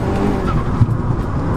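BMW 335d driving past with a loud, steady diesel roar and some tyre noise, close by and alone without talk.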